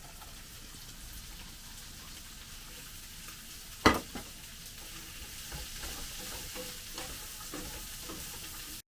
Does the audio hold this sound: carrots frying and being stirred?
yes